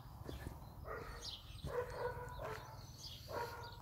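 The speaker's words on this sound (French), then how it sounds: "il y a un chien qui aboie" A dog barks in repeated short bursts outdoors beside a rural longère-style house in Chaource, somewhat distant and fairly faint against a low background hum.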